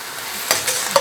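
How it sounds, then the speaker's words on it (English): Scored whole squid stir-fried over high heat, giving short, close sizzling bursts with stirring scrapes that come in quick surges with no voices. "Stir frying is about hot temperatures, guys."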